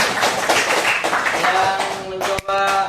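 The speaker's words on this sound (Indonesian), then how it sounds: "Oke, tepuk tangan dulu untuk Ayu" A classroom breaks into applause for a student, a dense, steady patter of many hands clapping at close range for about two seconds before it tapers off and a voice begins.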